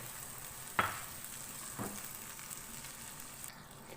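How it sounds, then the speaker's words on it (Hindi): Two chopped medium tomatoes fry with ginger and garlic for chana dal under a soft steady hiss, broken by a sharp clink and a later scrape of stirring before the sizzle abruptly drops away. "टमाटरों को मैंने अच्छी तरह से मिक्स कर दिया।"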